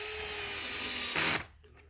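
Cordless power drill with its clutch set to 9, driving screws during a Traxxas X-Maxx RC truck motor rebuild; a steady whirring run that swells louder near the end, then cuts off abruptly.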